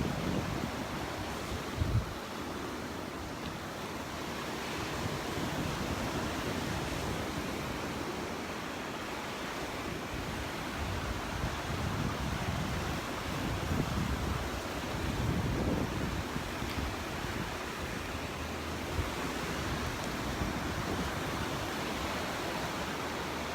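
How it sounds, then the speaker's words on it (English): Ocean surf rolls steadily onto Crystal Beach in Destin, Florida, a continuous broad wash of breaking waves mixed with wind buffeting the microphone, with no talk over it. "The waves look so much calmer than they have in the past few days."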